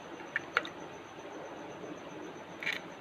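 Three eggs cracked one after another into a dry jug for garlic shawarma sauce, each giving a short, sharp tap against the rim, with a quiet pause between the first cracks and the last.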